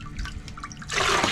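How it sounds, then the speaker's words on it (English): Water being bailed and emptied out of the bottom of a leaking boat at a marina, a soft trickling and sloshing that swells into a louder, steady splashing pour partway through. "So we're just trying to empty out all this water."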